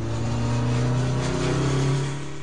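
A Honda CB750 motorcycle engine revs hard and pulls away, a loud, steady mechanical drone with a rising pitch that holds for a couple of seconds, then begins to fade.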